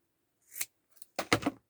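Scissors snip through yarn loops on a handmade craft figure, a short cut followed by a quicker cluster of crisp snips close by with no talking.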